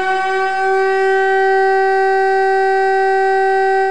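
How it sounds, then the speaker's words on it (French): Air raid sirens wail over the city of Saint-Etienne in a loud, steady, sustained tone that holds without a break for the whole stretch. "À 10h, les sirènes de la ville retentissent."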